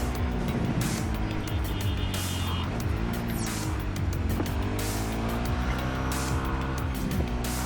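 A motorbike is ridden in Cyberpunk 2077, its engine droning loud and steady throughout with rising and falling revs and tire squeal, continuous and close.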